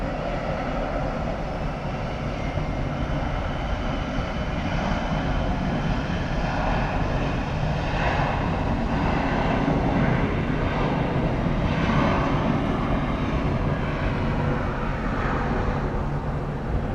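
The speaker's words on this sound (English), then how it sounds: "Takeoff, Eastern Air 737-400." An Eastern Air Boeing 737-400 jet takes off at Miami Airport, its engines giving a steady, sustained roar that holds for the whole stretch, moderately distant and with no voices.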